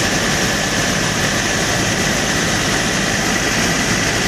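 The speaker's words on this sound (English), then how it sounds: "they've had engines from like 5 or 6 different fire stations out here tonight" Fire engines from several stations idling at night at a house fire in an East Dayton, Ohio neighborhood, producing a loud, constant, broadband diesel rumble with no breaks.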